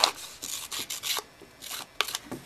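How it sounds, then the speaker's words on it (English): Paper edges being distressed for a handmade vintage flower card, giving repeated close scraping and rubbing strokes in an uneven rhythm with short pauses, fairly loud and with no talking. "now I've finished distressing all of those, and I'll add them to their mats"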